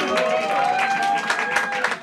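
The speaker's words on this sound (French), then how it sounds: "Applaudissez le poète." An audience applauds a poet at a slam poetry event, a moderately loud burst of clapping mixed with crowd noise and a faint sustained tone, tapering off toward the end.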